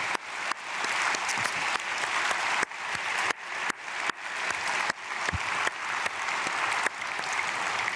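A church congregation applauding at a dawn prayer service, a dense, steady wash of clapping that carries on for several seconds with brief breaks and no talk over it.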